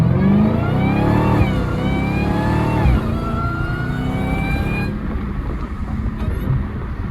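A Dodge Hellcat's supercharged V8 revving hard through downshifts, loud and close, with rising and falling engine tones that ease into a steadier rumble near the end.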